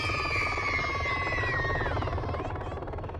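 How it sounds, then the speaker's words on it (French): A helicopter comes in to land, its rotor thumping steadily and loud under a whining engine tone that slowly drops in pitch, with a constant churning wash throughout. "Un hélicoptère atterrit spécialement pour les enfants."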